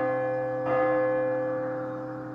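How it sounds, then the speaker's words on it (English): A single bright bell ding rings out and fades slowly with a lingering metallic ring, heard alone. "Ding that little bell."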